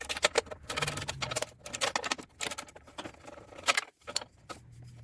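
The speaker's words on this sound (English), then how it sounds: "we'll take their little 7/16 and get all these bolts out." A small 7/16 wrench loosens the bolts on a small engine's pull starter cover, giving a close run of sharp metallic clicks, ratcheting and rattles in irregular bursts with brief pauses, and no talking.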